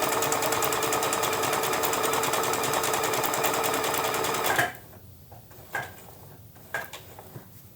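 A sewing machine runs steadily, stitching appliqué onto a tote bag with a fast, even mechanical whir, then stops, leaving a few soft clicks and handling sounds close by.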